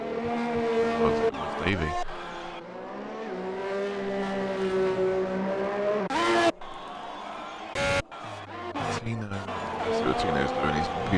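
A race car spins out in the Premier Racing League racing video game at Russia, engines whining and shifting pitch with tire squeal and skidding, broken by abrupt cuts while a commentator talks over it.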